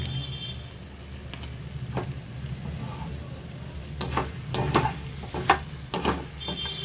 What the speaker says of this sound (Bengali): এবার এটা নাড়বো, আর একটু নাড়বো